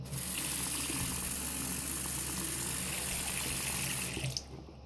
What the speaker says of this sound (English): just run it underneath some hot water